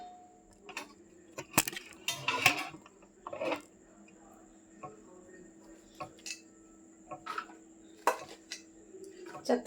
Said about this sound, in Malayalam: ഇനി നമുക്ക് അതെല്ലാം കൂടി കുക്കറിലോട്ട് ഇട്ട് കൊടുക്കാം